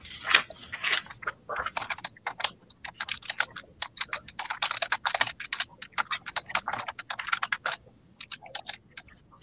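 Rapid clicking of fingers typing on a computer keyboard, close and fairly quiet, in irregular bursts of keystrokes with brief pauses and no talk.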